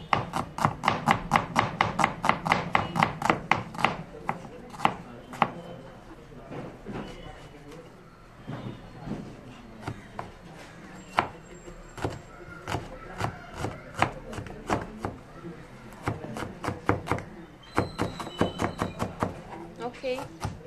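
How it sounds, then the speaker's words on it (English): An onion is chopped with a knife on a board in fast bursts of sharp, close taps, pausing briefly midway before the rapid rhythm resumes. "now small chop onion"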